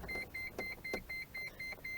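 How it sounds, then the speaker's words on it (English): Key-in-ignition warning chime on a Japanese car with the door open, a quick steady series of about eight high electronic beeps evenly spaced, close and fairly clear over faint background noise. "Once you open the door, it starts beeping."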